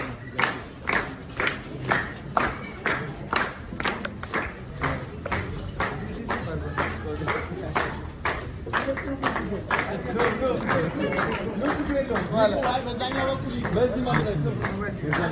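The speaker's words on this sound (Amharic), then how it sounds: "እስኪ ጭብጨባ አስብላችሁ።" An audience breaks into applause, sharp claps landing in a steady rhythm, while voices talk over the clapping, mostly in the second half.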